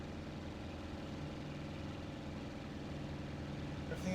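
Steady piston drone of an A6M5 Zero fighter's engine in IL-2 Sturmovik, overheating, holding a constant low throb with no breaks.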